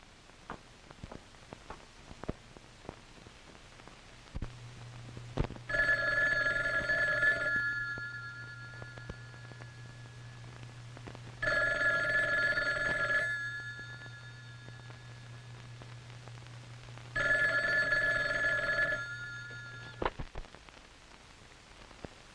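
An old-fashioned telephone bell rings in three loud, evenly spaced bursts of about two seconds each, over a steady low hum, with no one speaking.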